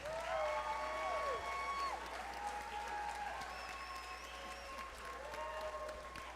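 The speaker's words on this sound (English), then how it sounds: "give these folks a big round of applause" Applause from the audience at the 2023 Long Beach Mardi Gras ball, a broad steady wash of clapping over a little more than six seconds, with a musical tone or sustained band notes running above it.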